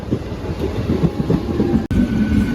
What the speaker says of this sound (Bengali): এই যে ট্রেন ঢুকছে